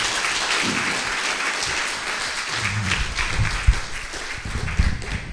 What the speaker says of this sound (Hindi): एक बार जोर से ताली बजाएं खुदावंद के नाम को जलाल देने के लिए।